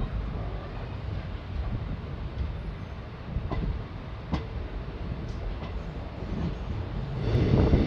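Ahmadpur–Katwa electric passenger train slowly gathering speed through open fields and woodland, heard from on board as a low rumbling roll with wind buffeting, a few sharp clicks, and a louder surge near the end.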